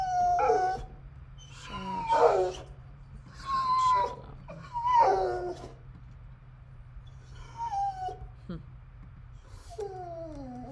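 A dog howls repeatedly nearby indoors, several rising and falling drawn-out howls separated by short pauses over a low steady hum.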